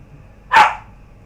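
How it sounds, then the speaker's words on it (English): A dog gives one sharp, loud bark close by, standing alone against quiet background noise. "the moment we start doing this, the dog barks."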